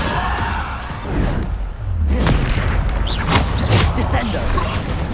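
A Bombarda blasting spell erupts in Hogwarts Legacy, a loud, deep boom followed by further crashing impacts and whooshing bursts within a dense, noisy game soundscape.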